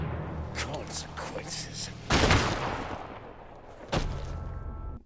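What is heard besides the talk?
gunshots in John Wick: Chapter 4 movie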